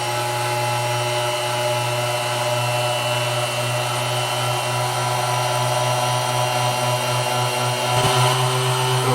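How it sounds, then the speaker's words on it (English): A steady, loud power drill boring into stone whines continuously at close range with a constant motor hum, a slight shift near the end. "So I pick my spot and start to drill."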